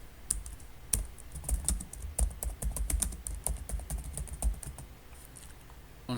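Rapid, irregular keystrokes on a computer keyboard while an online visa application form is filled in, close and fairly loud, with bursts of clicks and short pauses throughout.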